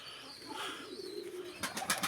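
Soft, low pigeon cooing in the distance, followed by a few quick rustling flutters near the end.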